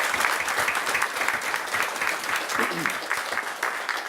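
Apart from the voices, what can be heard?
round of applause at a tribal council meeting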